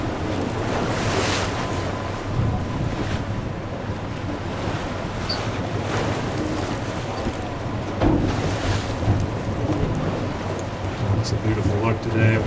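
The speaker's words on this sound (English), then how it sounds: "waves just pounding up against the rocks there" Ocean waves pound against rocks off the coast near Cape Resurrection and Barwell Island, a continuous heavy roar of surf with periodic louder surges, mixed with strong wind buffeting the microphone and the rumble of a tour boat.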